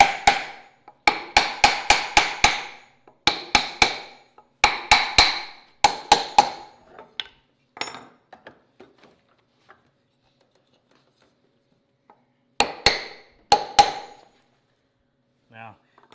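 Hammer pounding on a wooden block set against a woodworking joint to drive it tight, in rapid bursts of sharp, loud strikes, several quick runs of blows with pauses, then a final short burst after a quiet stretch.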